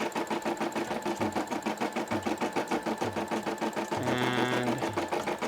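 A Brother SE600 embroidery machine stitching a Nike check design, with a steady rapid mechanical chatter of needle strokes and a humming motor that swells louder near the end.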